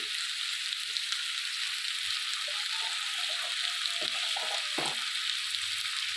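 Boiled potatoes and Kashmiri chili frying in a pan for a Bengali vegetarian aloo dum, a steady close hiss of sizzling oil running throughout with brief stirring scrapes and clatters near the end.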